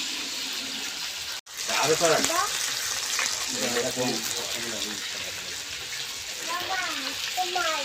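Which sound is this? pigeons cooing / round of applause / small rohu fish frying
small rohu fish frying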